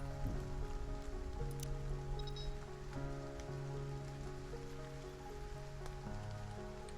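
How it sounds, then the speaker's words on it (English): Rain falling in the survival video game Stranded: Alien Dawn, a steady, fairly quiet patter on surfaces with sustained tonal game music underneath. "Celebrating in the rain. Let the rain, bleh, the rain wash away."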